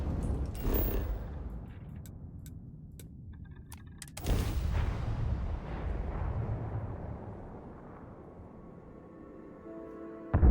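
Gunfire and booming blasts in the video game Starfield, a few heavy, rumbling explosions and bursts spaced through the clip against a low background roar, no talking.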